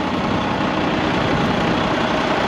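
A truck engine idles steadily while warming up in minus 13 degree cold, a continuous low rumbling drone, close and loud with no talking.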